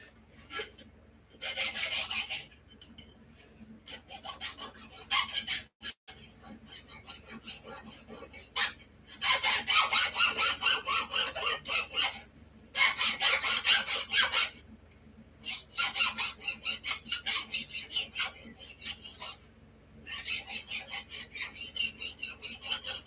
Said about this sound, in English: we're going to take this file and put it on the bench over there, and we're going to run this across and ruin the plating